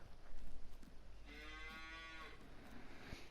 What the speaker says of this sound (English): There's a cow walking through my car.